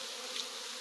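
European Italian honey bees buzz in a brief, faint swarm drone, a thin, steady hum heard alone.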